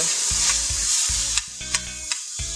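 Vegetables sautéing in a hot pan with oyster sauce, a loud continuous sizzle with several sharp spatula scrapes and knocks toward the end.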